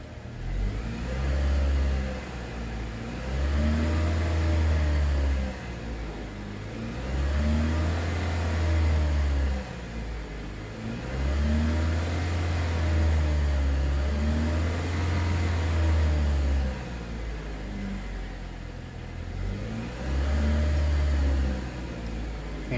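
A Saturn Ion car engine revving repeatedly while warming up, rising and falling in steady cycles of a few seconds each, loud and close with a constant droning hum and no speech.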